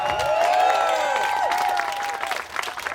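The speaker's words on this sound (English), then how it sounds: "Give a big round of applause for that group." A Canada Day crowd breaks into loud, sustained applause with some cheering, while a voice rings out over the clapping.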